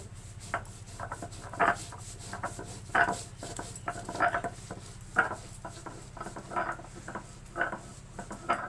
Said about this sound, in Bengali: পোস্তগুলো একটু বেটে নেওয়া হচ্ছে এখন